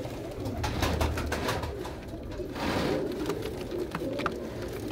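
Pigeons cooing steadily at close range, with soft rustling and flapping mixed into a busy, continuous background and no clear talk.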